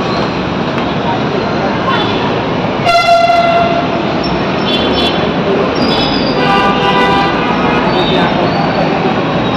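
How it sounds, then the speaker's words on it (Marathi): Metro train at a Pune municipal corporation station, a continuous loud rail rumble with a sharp horn blast and squealing tones over busy platform noise. "हे आहे महानगरपालिका पुणे मनपाचं स्टेशन, मेट्रो स्टेशन"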